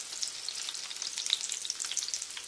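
Spoonfuls of jiló and calabresa sausage fritter batter frying in hot oil give a close, steady, crackling sizzle with fine popping throughout.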